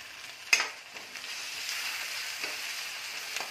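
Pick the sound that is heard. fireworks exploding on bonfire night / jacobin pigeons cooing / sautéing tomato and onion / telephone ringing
sautéing tomato and onion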